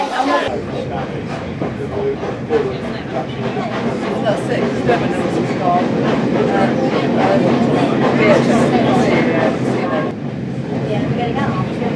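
A passenger train hauled by the GWR Castle Class steam locomotive 7029 Clun Castle on the Shakespeare Express, heard from inside a carriage as a loud, steady rumble and rattle of wheels and coach for the whole stretch, with no talk.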